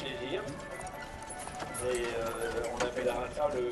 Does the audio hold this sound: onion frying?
no